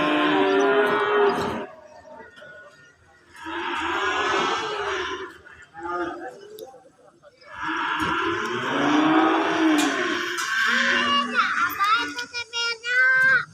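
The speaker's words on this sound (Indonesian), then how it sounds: "Dan ini datang sapinya lagi guys" Cattle moo repeatedly, loud and close, in long drawn calls at a morning livestock market, with short gaps between them and voices and children audible in the background.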